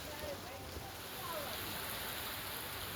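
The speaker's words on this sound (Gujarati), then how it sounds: "અમરેલી તાલુકાના શહેરી અને ગ્રામ્ય વિસ્તારમાં ધોધમાર વરસાદ પડ્યો છે" Heavy downpour in Amreli town, Gujarat, a dense and constant hiss of rain hitting streets and surfaces, close and loud with no pauses.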